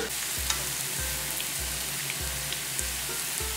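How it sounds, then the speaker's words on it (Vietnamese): Minced pork stir-fries in fried shallot oil for Singapore-style noodles. A steady, close sizzle runs throughout, with regular low scraping strokes about every half second as the meat is stirred. "Bước tiếp theo là chúng ta sẽ xào phần thịt này"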